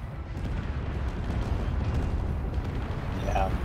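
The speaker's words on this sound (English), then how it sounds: "the Cerberus is shooting at it" A Cerberus ship firing its weapons in a space combat video game: a dense, continuous barrage of heavy booms and rumbling blasts, loud and unbroken throughout, with no clear talk over it.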